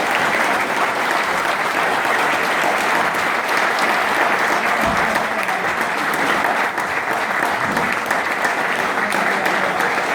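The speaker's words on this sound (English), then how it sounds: "Ladies and gentlemen, a big round of applause for Jim Magilton" A lunch crowd at Cliftonville FC gives a long, steady round of applause for Jim Magilton, a dense, even wash of many hands clapping throughout with no break.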